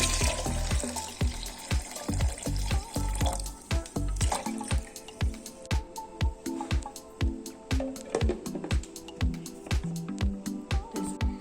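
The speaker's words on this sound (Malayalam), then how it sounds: "ഇനി ബാക്കിയുള്ള വെള്ളം കൂടി ഒഴിച്ചു കൊടുക്കാം" Water poured into a mixer jar holding cut lime pieces for coolbar-style lime juice: a steady splashing pour at first, then a run of sharp drips and small splashes, close and fairly loud, with no talking.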